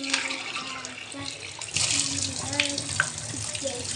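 Tap water runs in a kitchen, first a quieter trickle and then a stronger gushing stream, with brief clinks and a voice speaking nearby.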